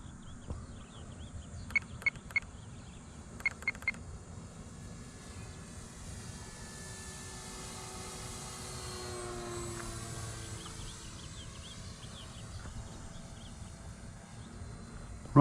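A model Cessna 182 airplane flies at about half throttle, its engine a continuous buzzing drone with a slowly shifting pitch as it passes, heard from a distance over wind noise, with a few faint clicks early on.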